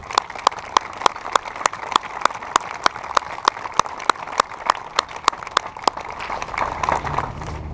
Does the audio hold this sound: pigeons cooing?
no